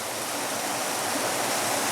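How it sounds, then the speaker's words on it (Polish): A rushing mountain stream beside the red trail to Śnieżnik pours out a steady, dense wash of water noise, close and constant, with no voices over it. "Potok górski typowo."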